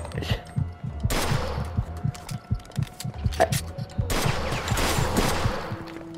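Bursts of gunfire in the Mafia 2 video game, with dense volleys of shots in two loud clusters, separated by scattered single cracks and low thumping impacts. No talk is heard.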